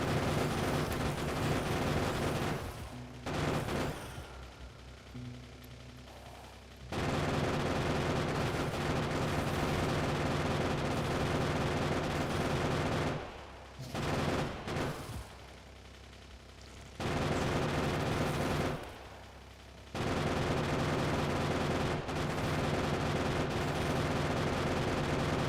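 Long stretches of continuous rapid gunfire against biters in Factorio, loud and dense, broken by three short lulls where the shooting drops away before resuming.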